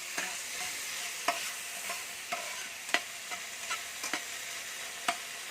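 Finely chopped ingredients for homemade chowpan sauté in a pan with a steady, close sizzle, broken by sharp scraping stirs at irregular intervals, with no talk.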